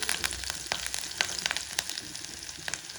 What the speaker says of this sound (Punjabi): ਪੱਤਿਆਂ ਦਾ ਥੋੜਾ ਜਿਹਾ ਬਰਾਊਨ ਕਰ ਲਵਾਂਗੇ ਅਸੀਂ ਇਹਨੂੰ